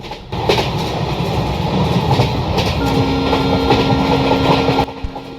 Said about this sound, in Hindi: ICF ट्रैक साउंड का मज़ा ही कुछ और है।